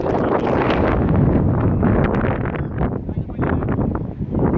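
Gusty wind buffets the microphone outdoors at an ultimate frisbee league match, a loud, rough rumble that rises and falls without pause.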